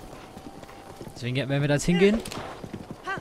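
A horse in Zelda: Breath of the Wild trots with rapid, rhythmic hoofbeats while someone speaks German over it and game music plays.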